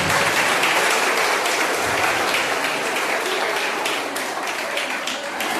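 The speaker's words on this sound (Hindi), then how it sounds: "इसके लिए फिर से एक बार ताली आप अपने लिए बजाइए" An audience at a motivational talk at a paramedical college in Dhanbad gives dense, sustained applause, steady and loud throughout with no pauses.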